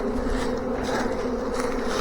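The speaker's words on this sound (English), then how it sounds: "Let's move these bees over here." Honey bee swarm hanging on a swarm trap, with a dense, steady buzzing hum from many bees throughout, close and continuous, with no talk over it.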